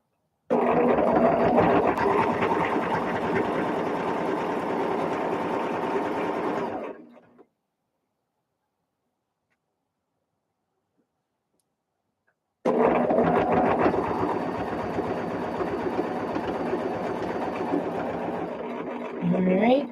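A sewing machine stitching binding onto a quilt runs in two loud, rapid bursts of mechanical whirring, with a pause of several seconds of near silence between them.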